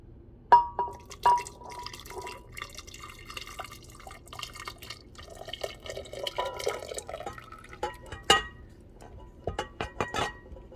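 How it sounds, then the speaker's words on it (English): Liquid trickles and drips into a container, with small splashes and a few sharp clinks, fairly quiet and close. "This is obviously very hot, so I'm going to pour carefully."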